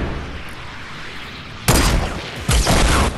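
Two loud, close gunshot bursts in a Fortnite match, the first at about mid-clip and the second shortly after, following a quieter ambient stretch.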